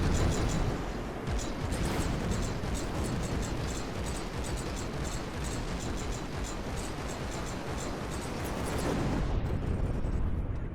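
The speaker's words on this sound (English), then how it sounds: "Whoa, big explosion right there." A large explosion in the naval combat game From the Depths, a sustained loud roaring blast that fills the clip with dense rumble, then cuts off abruptly near the end.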